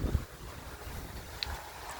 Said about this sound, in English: Kind of chilly out here and windy yet